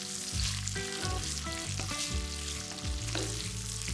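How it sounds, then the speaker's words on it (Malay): Dried chili pieces and sliced onions fry in oil for ayam varuval, producing a dense, continuous, close-up sizzle with no talking. "Tumis pula potongan cili kering."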